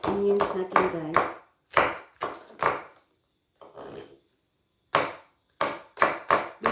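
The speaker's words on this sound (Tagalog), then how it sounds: "i-chop natin yung onions natin" Onions being chopped on a chopping board with a knife, a run of sharp, close, dry knocks in uneven bursts separated by short pauses, alone without talk.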